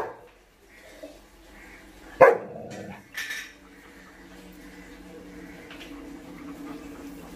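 An almost seven-month-old German shepherd puppy near balloons indoors gives one sharp, loud bark, then a shorter second yelp, with quiet room sounds and faint clatter around it.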